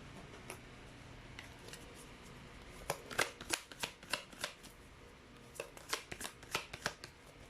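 Tarot cards are shuffled in bursts of quick riffling flicks and soft slaps, faint at first, then a denser run of crisp card snaps near the end, with no voices.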